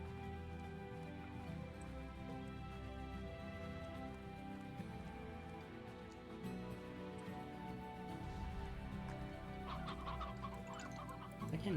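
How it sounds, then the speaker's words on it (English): Chickens cluck over a farm in the game Slime Rancher, a soft continuous chatter of several birds layered with background game sounds and music throughout. "I can hear chickens"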